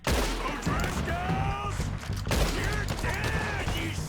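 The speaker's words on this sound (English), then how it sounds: "let's just shoot everybody in sight and try and stay in cover" Gunfire in Red Dead Redemption 2, loud rapid shots and volleys in bursts across the short stretch, with game voices and effects mixed in.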